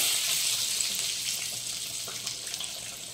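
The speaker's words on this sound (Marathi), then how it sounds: "चांगले खरपूस असे तळून घ्यायचे आपल्याला, कलर चेंज होईपर्यंत" Matar kachori deep-frying in hot oil, a soft, even hiss of bubbling oil that fades slightly over a few seconds, with no voices.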